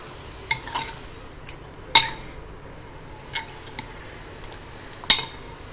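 Utensils clinking against a bowl while a Nepali dish is mixed, with several sharp metallic taps spread unevenly over a quiet background and no talking.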